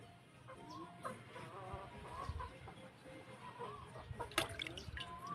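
Chickens cluck softly nearby in a quiet outdoor setting, with scattered short calls and a few small knocks and drips.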